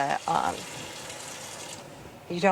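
Jewelry pieces rinsed under running water after an acid pickle, a steady tap stream between bits of someone talking at the start and end.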